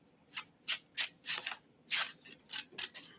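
Quick papery riffling bursts repeat in an uneven rhythm, close and fairly soft, as trading cards are shuffled by hand.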